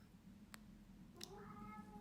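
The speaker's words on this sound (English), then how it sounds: "there's my cat" A cat meows faintly indoors, one drawn-out tonal call near the end preceded by brief clicks, quiet over a low background hum.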